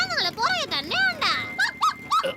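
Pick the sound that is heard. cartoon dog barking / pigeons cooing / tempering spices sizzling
cartoon dog barking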